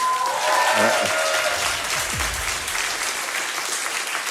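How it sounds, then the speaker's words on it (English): An audience claps steadily, a dense wash of applause under brief voices, continuing without pause throughout. "with a round of applause"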